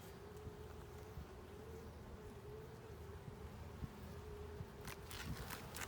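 Honeybees buzzing continuously at a backyard hive, a steady droning hum with some light rustling and a few soft knocks.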